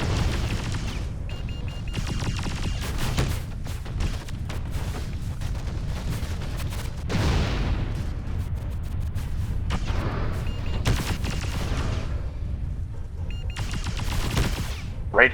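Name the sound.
missiles firing in video game Mechwarrior: Living Legends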